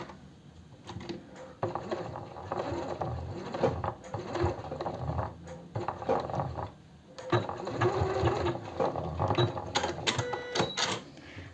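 A sewing machine stitches along a placket on a blouse made of eyelet fabric, running in several close, steady bursts with brief pauses between them and no voice.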